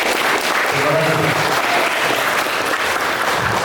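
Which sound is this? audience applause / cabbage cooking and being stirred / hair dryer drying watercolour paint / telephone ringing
audience applause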